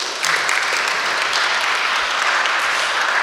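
Steady applause from an audience at a Hungarian literary award ceremony fills the room, even and sustained throughout with no voices over it.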